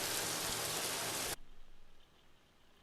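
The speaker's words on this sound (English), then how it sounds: "More water, which I slap loads of reverb on." Rain water sound effect drenched in heavy reverb, a loud broadband wash that cuts off abruptly and leaves a fading reverberant tail.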